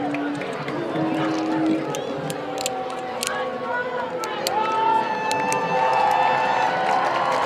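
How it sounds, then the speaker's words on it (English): A home crowd at a Jackson Liberty high school homecoming football game cheers loudly and continuously, a broad sustained roar with shouts rising over it and an announcer's voice talking over the noise. "The Liberty crowd, loud as ever."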